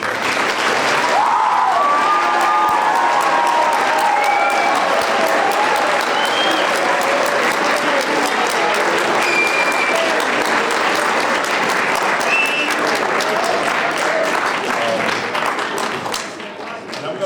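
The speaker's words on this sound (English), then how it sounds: "If you guys can give them a round of applause" Loud, sustained applause from a crowd at a fall sports awards night, honoring the coaches, with cheers and voices mixed in throughout before it begins to thin near the end.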